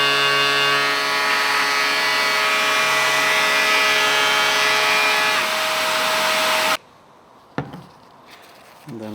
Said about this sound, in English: And then we sand.